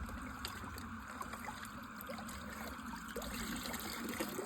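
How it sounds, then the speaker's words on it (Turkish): Water from a stream below a waterfall flows and trickles steadily, a continuous broadband wash at moderate level with no talk over it. "Görüyorsunuz şurası da şelale."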